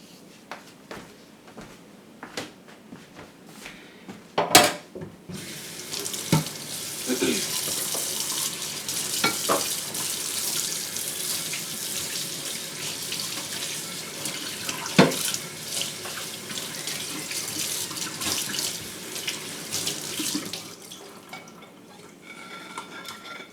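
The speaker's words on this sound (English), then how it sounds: "let me rinse the back of this lid" Tap water runs steadily into a kitchen sink as a jar lid is rinsed under it, with occasional clinks and knocks of the lid against the basin over a continuous splashing stream.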